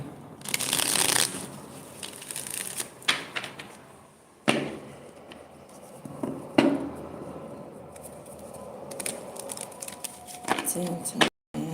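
Tarot cards being shuffled close up, with a brisk riffling burst at the start followed by intermittent slaps, shuffles and handling noises, while a person talks over parts of it.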